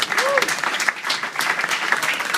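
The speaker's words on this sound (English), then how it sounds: "And a big round of applause for all of our ladies" Applause fills the room at a Mrs. Florida pageant in Orlando, with a steady, dense clatter of many hands clapping and some crowd noise, loud and continuous throughout.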